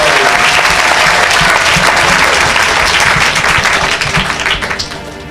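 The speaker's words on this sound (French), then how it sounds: "Acclamez." Audience applause at a church gathering, loud sustained clapping from a large crowd that fills the space, holding steady before thinning and fading toward the end.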